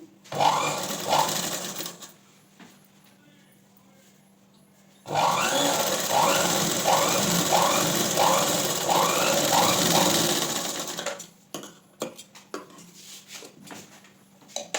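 Electric sewing machine stitching the hand joint of a blouse, running in steady rhythmic bursts of fast needle chatter, stopping and starting with quiet pauses between runs, close and fairly loud with no talking.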